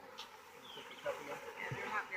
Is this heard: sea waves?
no